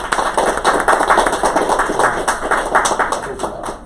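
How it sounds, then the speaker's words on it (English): Brief applause for graduating students at a June 2019 coding bootcamp graduation, a dense patter of many hands clapping at moderate loudness for a few seconds. "So a round of applause to all the students here."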